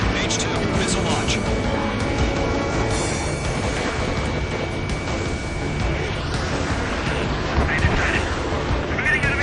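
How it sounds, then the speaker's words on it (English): Loud, dense game combat from Ace Combat 7: Skies Unknown, with a roaring missile launch and rumbling blasts layered over jet noise and steady radio chatter. "H2, missile launch."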